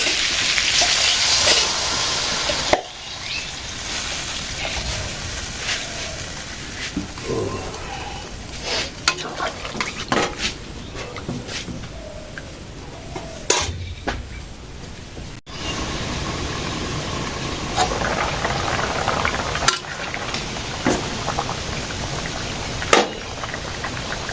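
Curry gravy sizzles and simmers in a pan with a continuous close frying crackle, broken by occasional scraping and clattering stirring strokes.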